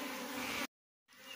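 Apis honey bees buzz during a hive transfer from a gourd bait box: a dense, steady, close swarm drone that cuts out abruptly into silence, then swells back in.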